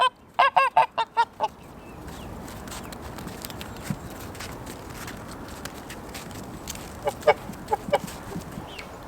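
Geese walking the streets of Skansen honk in a quick burst of about eight close calls, followed by a low outdoor wash and a few scattered, fainter honks and clucks later.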